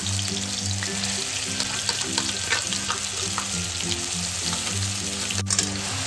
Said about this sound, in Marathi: तेलावरती छान असं आता हे वाटण आपण परतून घेऊयात